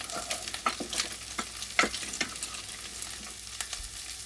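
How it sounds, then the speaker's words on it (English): Celery and carrots being stirred together in a hot pan. A low sizzle runs throughout, broken by quick scraping strokes of the utensil. "now we'll add in our celery and our carrots. I'll combine them up."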